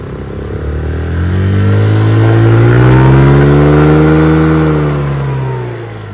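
A Chinese 150cc motor scooter engine revs up smoothly after carburetor tuning, climbing to a sustained loud whine that holds for a few seconds before easing back down, close by with no talk.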